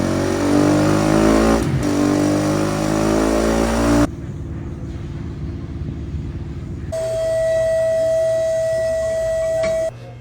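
A student-built drag car engine runs loudly on a dynamometer in a high school shop, a steady roaring drone that shifts character partway through and ends with a high whine, no voices.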